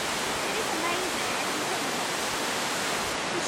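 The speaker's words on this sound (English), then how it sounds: "we're at the top of the waterfall. You can see right down as it's all coming down" Standing at the top of a waterfall, a dense, constant roar of rushing water fills the air, loud and unbroken with no distinct pauses.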